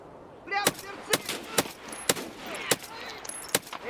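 Sharp, distinct gunshots in Escape From Tarkov, a sniper picking off targets near a rocky area of the Customs or Shoreline maps: about seven cracks at irregular intervals, loud against a quiet, faint background.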